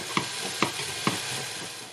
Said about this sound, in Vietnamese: Xào cà tím.